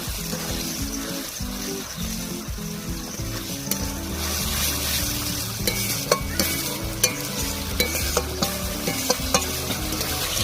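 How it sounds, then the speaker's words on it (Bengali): Gravy being stirred in a frying pan for a village-style potol and potato curry, with steady sizzling and repeated scraping strokes of a spoon, loud and close throughout. "ভালো করে নাড়িয়ে নিচ্ছি।"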